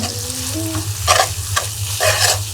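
Masala for a potato fry is stirred and sautéed in a pan with tomato sauce, giving a steady low sizzle with a few bursts of scraping spatula strokes, close and fairly loud, with no talking.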